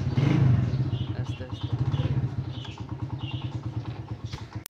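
Motorcycle ridden up a hill with a close, pulsing engine beat that throbs rhythmically and rises and falls in loudness, while someone speaks briefly over it.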